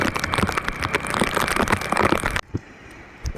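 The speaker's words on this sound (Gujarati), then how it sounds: "અત્યારે પણ વરસાદ ચાલુ જ છે" Dense, loud monsoon rain pattering on a surface with crackly drops on the road to Jamnagar, then cutting abruptly to a much quieter background near the end.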